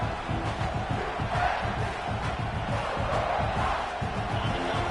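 A dense stadium crowd in the college football video game College Football 26 roars and cheers continuously, a thick wall of noise with no break in intensity, early in a Gators away game.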